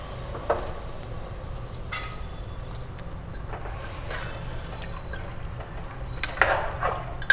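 Hot water, heated earlier for rice, is poured into a pot of mutton in a pressure cooker, giving a soft, steady liquid splash and trickle close by, with a few brief clinks, alone without talk.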